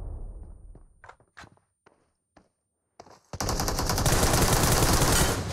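Video game gunfire: a few scattered thuds and footsteps, then at about three seconds a loud sustained burst of rapid automatic fire that continues to the end.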